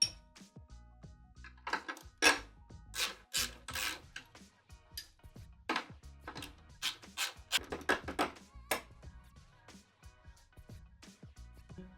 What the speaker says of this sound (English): So let's go ahead and take this spring out.